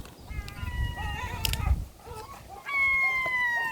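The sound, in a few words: black-headed gulls calling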